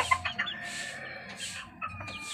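A hen with her two-month-old chicks clucks nearby, soft repeated clucks and small chirps in an uneven rhythm, fairly quiet and close throughout.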